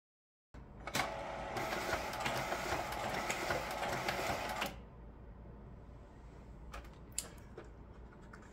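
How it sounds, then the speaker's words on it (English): An Epson FastFoto FF-680W photo scanner feeds and scans prints at 300 dpi, giving a steady mechanical whir for several seconds that then drops to a lower hum, followed by a few faint clicks. "let's see how fast these will scan through at the default 300 dots per inch"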